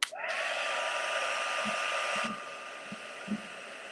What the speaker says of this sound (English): So we're just going to do that just to dry that.